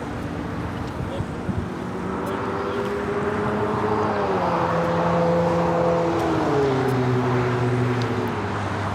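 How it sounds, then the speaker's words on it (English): An Eva Air Boeing 777-300ER airliner on short final for runway 24 right at LAX roars steadily and loudly. Its engine whine glides slowly lower in pitch, with a voice talking faintly underneath. "Eva Air, flight 12 to 777-300ER, now short final for 24 right"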